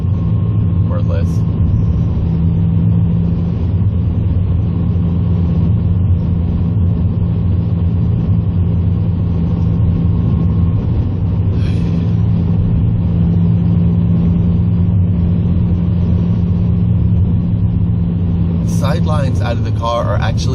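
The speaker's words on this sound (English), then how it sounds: "They sort of whoom, whoom, whoom, whoom. They thrum a lot on the interstate." Tires on a 2007 Honda Civic Si thrum steadily on the interstate, a continuous low droning rumble inside the car lasting the whole stretch, with faint road and cabin noise on top.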